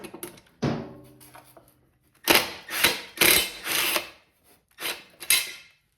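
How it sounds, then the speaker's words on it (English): Bolt being removed from a wrecked Harley-Davidson Sportster motorcycle during teardown: a quick ratcheting run, then a series of loud, close bursts from a tool with short pauses between them, and no speech. "now we'll go ahead and get this bolt out right here"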